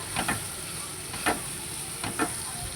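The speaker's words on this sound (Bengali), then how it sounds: "সুন্দর করে নাড়িয়ে চাড়িয়ে ভেজে নেব।" Onion and ground spice paste frying in oil, a steady soft sizzle with a few brief scraping stirs, fairly quiet and close with no talking.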